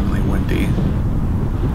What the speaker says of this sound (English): it was actually maybe 40 degrees outside and extremely windy